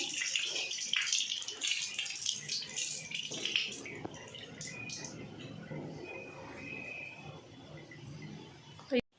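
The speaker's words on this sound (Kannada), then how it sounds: "ಸೌತೆಕಾಯಿ ಸ್ವಲ್ಪ ನೀಟಾಗಿ ವಾಶ್ ಮಾಡೋಣ." Water runs steadily over a cucumber being washed for a salad in a home kitchen, a broad splashing hiss that is strongest early and thins toward the end, with a brief knock just before it stops.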